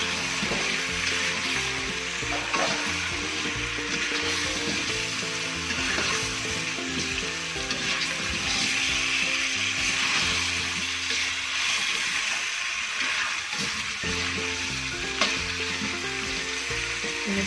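Shrimp stir-fried Aceh-style in a pan, hissing and sizzling steadily and loudly up close for the whole stretch, with faint scrapes and shuffles as the pieces are stirred.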